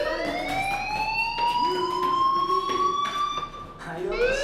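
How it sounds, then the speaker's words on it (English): A school fire alarm in the video game Life Is Strange wails continuously with a loud, rising siren-like tone and steady pulsing beneath it, while a voice talks over it. "Hey, do you hear that fire alarm?"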